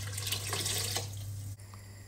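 Water runs steadily from a tap into a tin for a plum tomato minestrone, a close, continuous splashing flow that cuts off abruptly near the end.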